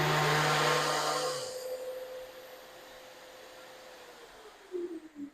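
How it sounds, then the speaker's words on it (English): A Festool dust extractor vacuum, hooked up to a sander in a home workshop, starts up with a loud broadband roar that drops off after about a second and a half into a steadier whine, with a faint rising tone near the end. "you turn your tool on, the vacuum comes on"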